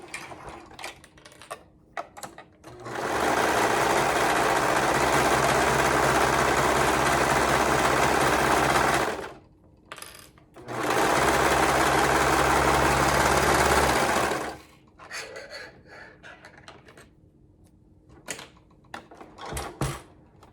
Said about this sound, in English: Go ahead and sew that up with a 1/2 inch seam allowance.